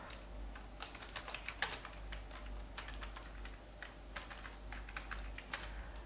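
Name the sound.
computer keyboard typing code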